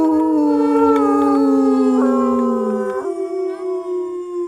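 Several players in VRChat howl together like werewolves, overlapping long sustained voice howls that imitate wolves, close and loud, with the pitch gliding down and then tapering off.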